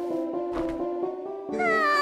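A cat in the video game Zelda Twilight Princess lets out a couple of clear, tonal meows, the second rising higher and louder, close and alone.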